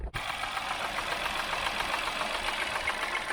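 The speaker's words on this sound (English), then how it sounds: "Definitely something knocking there." A part-exchange car's engine idles with a rapid, even knocking clatter, steady and close throughout, with a faint brief break at the very start.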